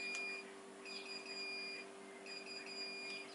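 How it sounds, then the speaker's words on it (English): Home-brewing temperature controller beeping in a room, a high, thin electronic tone sounding in three drawn-out pulses of about a second each, steady and moderately loud over a constant background hum. "I apologise about that beeping, it's my temperature controller."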